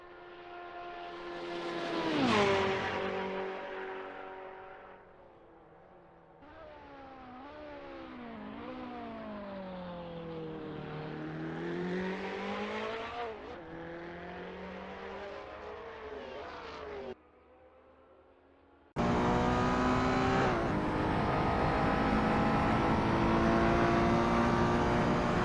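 Racing car in a Le Mans video game sweeping through the Mulsanne kink, its engine screaming at high revs with sliding pitch changes through gear shifts, loud and continuous, then a brief drop before another car's roar.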